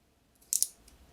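Two quick, crisp snips of scissors trimming heat transfer vinyl for a wood ornament, close and quiet in an otherwise still room.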